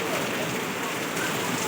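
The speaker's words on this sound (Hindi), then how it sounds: "बारिश हो रही है इसलिए छुपे।" Sudden heavy rain pours down as a steady, dense hiss of drops on surfaces, continuous and fairly loud for the whole moment, with no talking.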